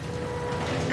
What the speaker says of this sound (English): I'm gonna detach the winch now.